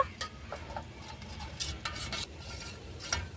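Batter for an eggplant fry being mixed in a bowl, soft wet stirring swishes and a few light taps against the side, fairly quiet and close.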